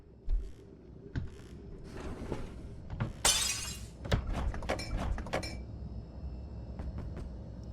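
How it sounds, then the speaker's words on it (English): Glass shatters in the horror video game Who's At The Door, a sudden bright crash in the middle of quiet thumps and clunks, with smaller knocks scattered before and after. "Again with that glass breaking sound,"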